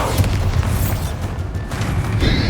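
The Bombarda blasting spell goes off in the wizarding game Hogwarts Legacy, a loud, sustained rumbling explosion with crackling debris that fills the whole moment without a pause.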